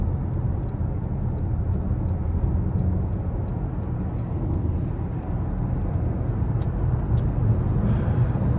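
A 2026 Toyota C-HR XSE driving after a light throttle tap, heard from inside as a steady low road and engine rumble with a soft regular ticking above it.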